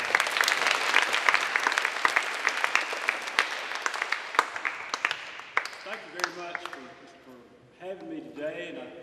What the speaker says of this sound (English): If you will, give him a round of applause.